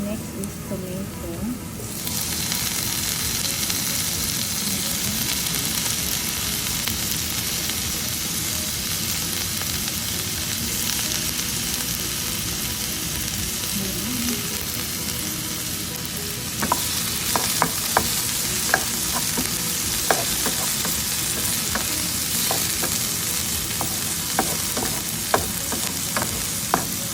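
Garlic and tomato sizzle steadily in hot oil for a chayote dish, a dense continuous frying hiss with occasional stirring clicks and scrapes growing more frequent toward the end, close and fairly loud.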